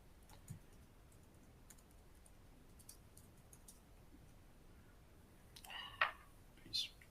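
Uneven, hesitant typing on a computer keyboard: soft, faint key clicks come in sparse bursts, and a couple of louder taps near the end.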